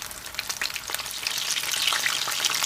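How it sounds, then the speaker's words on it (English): Sweet and sour chicken pieces fry steadily in a pan, giving a dense, loud crackling sizzle that builds slightly and carries on without any talking. "So I'm just gonna leave them guys to fry and 5 minutes on each side."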